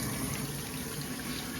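Water runs steadily from a faucet inside a house, fed by a newly installed water line, a continuous broadband rush at close range with no voices.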